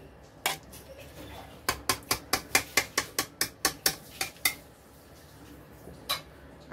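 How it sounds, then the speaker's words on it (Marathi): Spoon or spatula knocking against a pan while spinach butter chicken is stirred, a quick run of about a dozen evenly spaced metallic clinks with a few scattered taps before and after, close and fairly quiet. "छान असं सगळ्या बाजूनी मस्त असं हलवून घेऊया, म्हणजे सगळीकडे छान लागेल ते."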